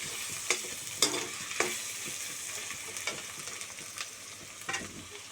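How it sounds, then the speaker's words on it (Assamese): Onion, garlic, ginger and chilli frying in a pan for a paneer dish, a soft steady sizzle broken by periodic scraping stirs. "এতিয়া গোটেইখিনি ফ্ৰাই কৰি ল'ম ধুনীয়াকৈ।"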